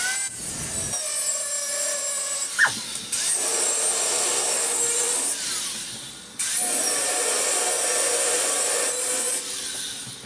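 Metal parts of a trailer rack being cut off with a power tool, a bright, harsh grinding whine that stops and restarts in long passes, with a short squeal between them.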